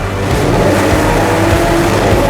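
A Lamborghini Aventador Roadster's V12 engine holds a loud, steady, throaty roar close by for about two seconds, with no one talking.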